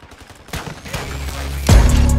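Gunfire in the Modern Warfare 2 video game, a burst of shots with a sharp, loud report swelling near the end of a short stretch of game noise.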